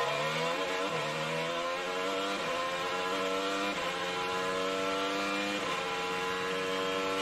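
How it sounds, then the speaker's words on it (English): Colton Herta's IndyCar accelerates hard out of the hairpin at the 2023 Long Beach street race, its loud, close engine note climbing in steady rising sweeps through several upshifts, with no talking. "Have a listen to the throttle out of the hairpin."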